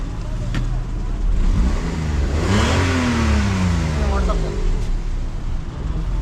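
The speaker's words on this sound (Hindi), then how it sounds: "गाड़ी इस वक्त स्टार्ट खड़ी है।" A Suzuki Khyber car fitted with a 660cc engine and an automatic transmission idles, then revs up and falls back in one smooth rising and falling sweep, loud and close, with talk going on over it.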